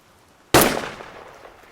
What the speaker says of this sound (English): Then, another gunshot.